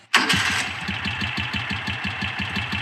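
A Moto Guzzi California II motorcycle engine cranks and catches right away, then settles into a steady, loud, rhythmic idle with an even mechanical thump close by.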